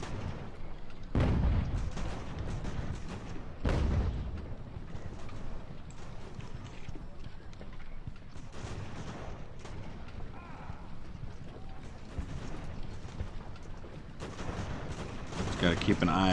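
Booming shots from 6-pounder cannons in the naval game Ultimate Admiral: Age of Sail, a few scattered blasts heard at moderate distance over continuous battle ambience, with someone talking over them.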